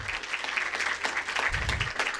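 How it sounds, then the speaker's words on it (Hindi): Audience applause welcoming a student at a school talent award ceremony, a soft, distant, steady patter of many hands with a low thump partway through. "जोरदार तालियों से स्वागत करें।"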